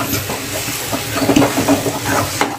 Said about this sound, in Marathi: हे बघा, अशी मिक्स करून घ्या चांगलं.